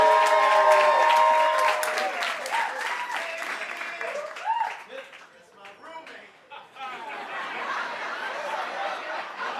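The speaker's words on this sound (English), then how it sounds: "Please give a lovely, loud round of applause for Pages." A poetry-jam audience at a cancer fundraiser gives a loud burst of clapping and cheering for a poet, which fades after a few seconds into scattered laughter and crowd chatter.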